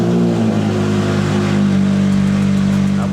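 A BMW E60 M5 engine runs loud and close, holding a steady rumbling idle with a rising rev toward the end, continuous with no talk.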